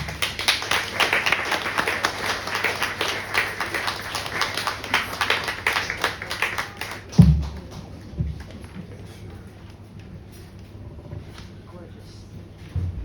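Audience at a Rivertown Poets reading claps after a poem, a brisk patter of many hands for several seconds that fades out, followed by a thump and quieter room sounds, with some talk mixed in.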